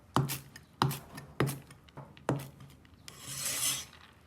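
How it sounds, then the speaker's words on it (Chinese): Knife chopping drained glass noodles on a cutting board, four sharp close knocks spaced about half a second apart, followed by a soft rustling scrape. "粉丝沥干水分之后，也是随便给它切2刀"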